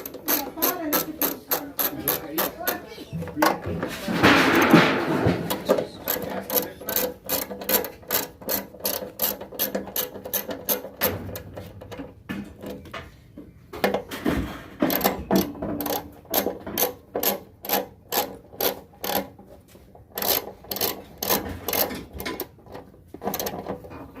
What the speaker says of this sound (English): All the screws are tight, and then you just go back and tighten everything to spec.